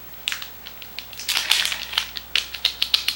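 Plastic wrapping around an Apple keyboard crinkles and crackles as it is unboxed, a close run of irregular crisp rustles and sharp snaps with no talking over it.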